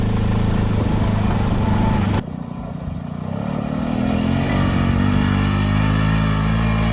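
A turbocharged Pioneer 500 climbs a hill in second gear, its engine droning loud and steady with a brief dip partway through before the labored pull resumes.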